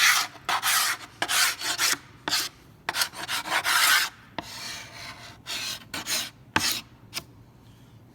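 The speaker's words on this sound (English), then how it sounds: "I'm going to scrape it off with a glue scraper." A glue scraper rasps repeatedly across a wooden soundboard, lifting off excess glue in loud, close, rhythmic strokes with short pauses between passes.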